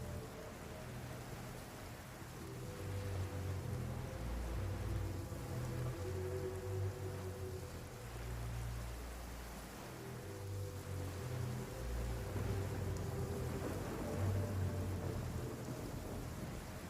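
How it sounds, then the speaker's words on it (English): Heavy rain pours down steadily in Genshin Impact, a dense, continuous hiss with low rumbling swells of thunder rolling in and out, loud and unbroken with no voices. "Quite a downpour."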